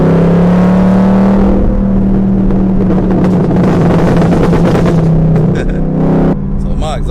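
Loud, steady exhaust drone from a 2022 Chevrolet Camaro ZL1 cruising on Woodward with the windows down, a sustained engine tone holding throughout and dipping slightly near the end; no speech over it.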